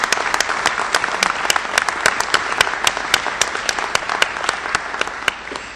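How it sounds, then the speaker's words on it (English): Applause honoring Navy SEALs at a 9/11 remembrance ceremony in Columbus, a crowd clapping steadily with distinct sharp nearby claps punctuating the dense patter throughout. "I'd like you all to give a round of applause"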